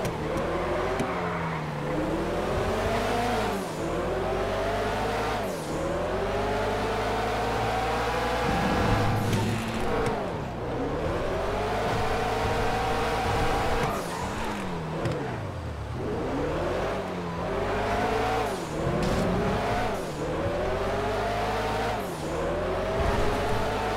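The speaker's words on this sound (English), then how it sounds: "This car sounds so good." A car engine in a FiveM video game revs up and down continuously through rising and falling gear shifts, loud and steady, like a racing car pushed hard.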